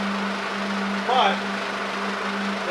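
A supercharged Mercedes SLK230 engine runs at idle with a steady, close hum, with a brief voice partway through.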